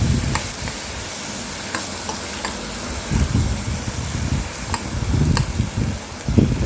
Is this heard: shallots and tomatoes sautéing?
yes